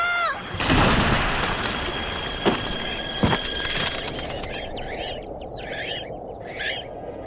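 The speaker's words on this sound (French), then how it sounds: "Les oiseaux!" Birds in an animated manga film, with a mix of chirps and calls rising over a dense, busy layer of effects and sharp bursts, then bird calls continuing more sparsely near the end.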